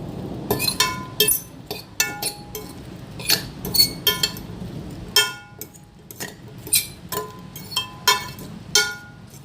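Ribs being tossed in leftover garlic mustard sauce inside a bowl, with repeated sharp clinks and scrapes of a utensil against the bowl in an irregular rhythm, close and fairly loud.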